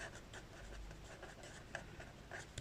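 Pen or chalk writing during a math lesson on profit and loss, soft scratchy strokes in short bursts, quiet and close, with no talking over it.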